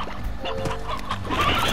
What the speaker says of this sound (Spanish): ¡gallinas!